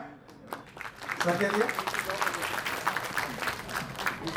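Applause at a Uttarakhand event, rising after a brief lull and carrying on steadily at moderate level, with a voice speaking over it throughout.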